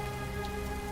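Heavy rain from the Heavy Rain video game hisses steadily in a short, even burst, a close, dense patter of drops with no voices.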